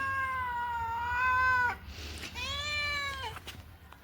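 A cat gives two long, drawn-out meows close up, separated by a short pause, with a quiet room behind.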